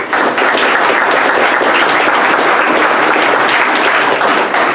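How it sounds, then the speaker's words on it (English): Audience at an affordable housing forum gives the panelists a round of applause: loud, dense, even clapping from a full room that holds steady throughout with no talking. "So a round of applause for all of our panelists."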